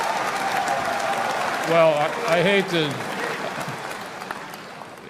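Crowd clapping at a CPAC conference speech, a broad steady patter of applause heard throughout, with a voice speaking briefly over it in the middle before the clapping thins toward the end.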